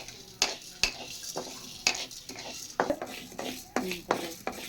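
Tomatoes fry in oil in a pan with soft sizzling under repeated spoon scrapes and clinks against the metal, a close, uneven stirring rhythm without talk.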